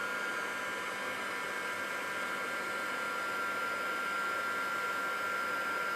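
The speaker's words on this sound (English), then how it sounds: "So then we need to take our heat embossing gun." A heat embossing gun blows hot air over a card in a continuous, even hiss and whoosh, steady and close, with no talk.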